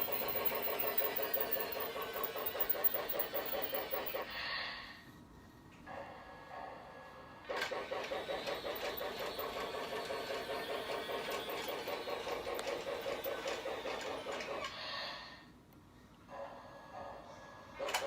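A battery-powered Lionel Thomas & Friends Ready-To-Play toy train engine whirs along its track with a steady motorized hum, cutting out briefly twice before resuming, fairly close and quiet, with no talk.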